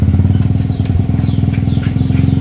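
Motorcycle engines run loud and close, a steady throbbing beat with rapid pulses that hold through the whole stretch, without pausing or fading.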